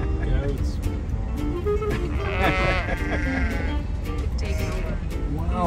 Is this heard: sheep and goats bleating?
yes